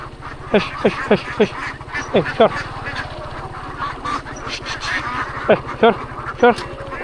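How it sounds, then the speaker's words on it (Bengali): A flock of ducks by a wetland roadside quacks repeatedly in bursts over a steady low engine hum, with people talking faintly in the background. "কুনাপাড়া বিলের একদম পাশ গেছে রাস্তাটা গেছে, সামনে অনেক হাঁস"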